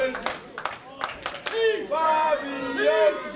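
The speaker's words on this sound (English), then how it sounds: "Crowd definitely behind Bobby Ocean." A wrestling crowd chants for Bobby Ocean in sharp rhythmic bursts, then breaks into sustained, loud cheering and shouting, with claps scattered through the noise.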